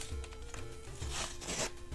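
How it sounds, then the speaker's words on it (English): A paper package is torn open by hand to unwrap a Finesse blender pen, a few close crinkling, ripping bursts with a louder tearing stretch in the middle. "I'm an expert paper ripper."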